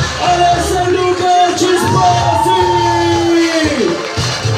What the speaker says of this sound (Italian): Accogliamo con un grandissimo applauso Alessio e Luca